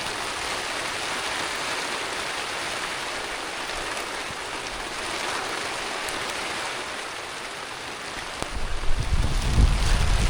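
Strong wind buffets a tent pitched on a riverbank, a steady broadband roar that swells and gusts throughout, with heavier low rumbling buffets near the end; no voices.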